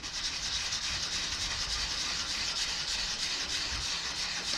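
Sandpaper rubbing steadily against a wood-turned wand, giving a continuous close scratchy hiss with a faint low rumble, no voices.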